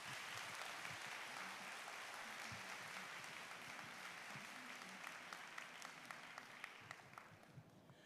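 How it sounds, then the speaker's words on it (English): An audience at the Hong Kong FinTech Week opening applauds performers, a dense steady wave of clapping that tapers off near the end. "another round of applause for our performers"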